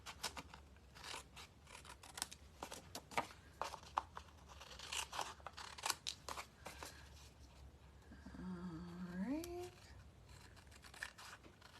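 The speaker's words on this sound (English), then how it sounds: "we're gonna grab our scissors and we're gonna trim off the extra." Scissors snip through excess envelope paper while trimming a handmade stippled-rose card, a run of sharp, close cuts spread across the stretch, with a voice speaking briefly near the end.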